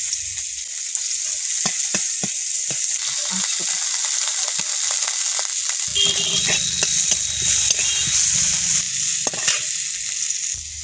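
Onion frying in a pan for a fish curry with taro and Malabar spinach, a steady broad sizzle with stirring clatter that grows louder and denser partway through.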